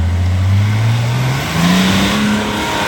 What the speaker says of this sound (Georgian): ეხლა აქეთ ამხრიდან ცდის მეორე მანქანა.